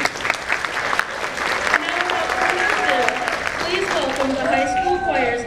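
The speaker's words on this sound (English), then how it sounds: "Please give yourselves a round of applause." An audience at a school choir holiday concert applauds with steady, dense clapping filling the room, while a voice speaks over the applause toward the end.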